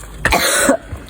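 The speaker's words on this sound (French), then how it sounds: "Je vais faire que tousser." A single short, loud cough close by, a harsh throaty burst with a brief trailing rasp.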